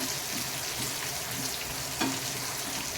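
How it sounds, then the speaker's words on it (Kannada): Onions sizzling in a hot pan for tomato chutney, a steady bright crackle of frying with a soft stir or scrape partway through, close and moderately quiet. "ಈಗ ಈರುಳ್ಳಿ ಹಾಕ್ತೇನೆ. 1 ನಿಮಿಷದವರೆಗೂ ಇದನ್ನು ಫ್ರೈ ಮಾಡಬೇಕಾಗುತ್ತೆ."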